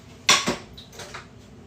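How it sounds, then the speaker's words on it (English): Frying pan being picked up in a home kitchen, a sharp metallic clank followed by a couple of lighter clinks and scrapes, close and brief. "Get that frying pan."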